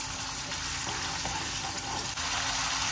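A bay leaf fries in hot oil at the start of a Malay asam pedas with red snapper, giving a steady, close, loud sizzling hiss that runs through the whole stretch with no talking.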